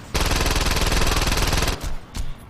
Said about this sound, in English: I'm using a shotgun for this.